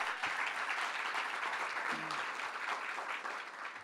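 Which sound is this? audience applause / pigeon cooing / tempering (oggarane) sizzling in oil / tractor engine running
audience applause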